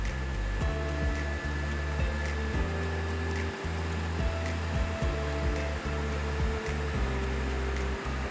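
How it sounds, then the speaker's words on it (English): Compressed air hisses steadily out of the machine spindle ports during maintenance, a loud continuous blowing rush close up, with a low hum underneath and repeated faint clicks and thumps throughout. "And blow all the ports outside of the machine."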